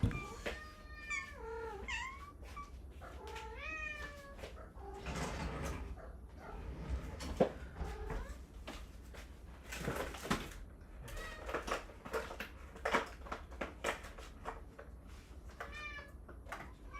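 A hungry house cat meows repeatedly before feeding time, the drawn-out cries close and clear, mixed with kitchen clatter like a cupboard or sliding door moving.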